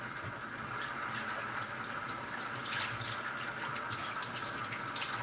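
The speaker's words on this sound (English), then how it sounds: "So let me rinse out the half a cup from the milk I just used." Water runs steadily from a kitchen tap as a half-cup measuring cup used for milk is rinsed, a constant close splashing rush with no talking.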